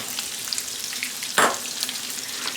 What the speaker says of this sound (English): I start taking all of the meat and I start pushing it to one side of the pan